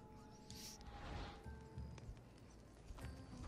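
Horse hooves clip-clop in Assassin's Creed Odyssey, a steady run of game hoofbeats over ambient game sound and a few brighter effect sounds.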